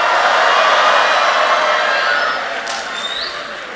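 An audience at a youth career-day event roars and cheers in a dense, sustained wash of noise that gradually tapers off.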